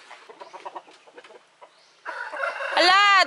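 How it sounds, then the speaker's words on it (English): Chickens cluck and squawk loudly up close, with a rooster-like crow at the end, following a stretch of softer, scattered clucking. "Hello, chickens."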